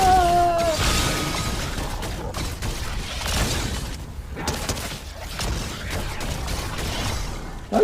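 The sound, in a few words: Ripsaw launcher explosions in the video game Fortnite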